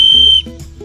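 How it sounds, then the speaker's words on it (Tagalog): A small whistle built into a pocket multi-tool gives one short, shrill, steady blast that stops abruptly, followed by faint low rustling. "Merong pito"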